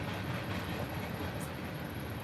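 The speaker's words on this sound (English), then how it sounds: "she'll hang out and watch the train." A passing train heard from outside, a constant rolling rumble and hiss of rail cars moving by at a distance, fairly quiet and unbroken.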